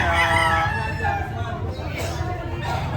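Roosters crow amid the steady hubbub of a fighting-cock sale in Lipa, Batangas, with a murmur of crowd voices underneath throughout.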